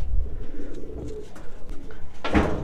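Pigeons cooing inside their coop, a few soft rounded coos repeating close by over low background rustle, with a sharper flutter or call near the end.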